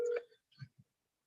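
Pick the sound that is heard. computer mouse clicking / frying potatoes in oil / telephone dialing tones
telephone dialing tones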